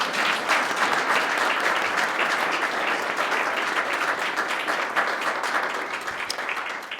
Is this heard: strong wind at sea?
no